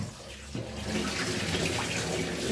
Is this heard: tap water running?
yes